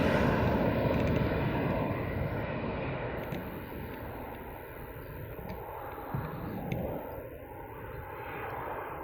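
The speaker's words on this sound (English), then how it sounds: "Very early takeoff on that one." An airliner takes off at Manchester Airport, broad roaring jet engine noise heard from a distance, steady and fairly faint as it slowly fades, no talk.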